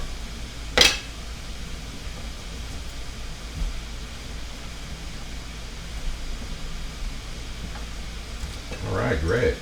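Sausages and potatoes frying side by side in a pan, a steady soft sizzle throughout with a sharp clink near the start and a brief faint voice-like sound at the end.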